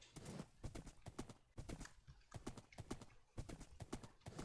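Video game horse hooves clip-clop in a steady, brisk rhythm, fairly quiet, with no one speaking.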